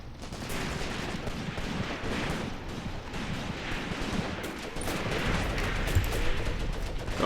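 Dense, continuous gunfire in a World War II battle on the Mius Front in Graviteam Tactics, PPSh submachine gun among it, rattles on without a break, loud and constant, a wash of overlapping shots with no voices.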